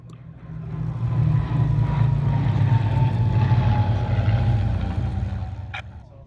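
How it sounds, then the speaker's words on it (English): Hispano Buchón fighters making a flypast at the Flying Legends airshow at Duxford, a droning piston-engine growl that swells and holds, then fades slightly toward the end, heard alone at a distance. "Here the Bouchons do a spectacular flypast."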